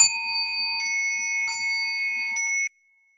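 A Soto Zen sogei standing bell rings in three struck strokes, each a bright sustained metallic tone with clear harmonics, the rings overlapping and then cut off abruptly; no voices.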